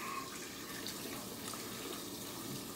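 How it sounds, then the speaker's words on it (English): Tap water runs steadily into a sink while a shaving soap tub is rinsed out, a continuous close splashing hiss with no talking. "Rinse out the tub here"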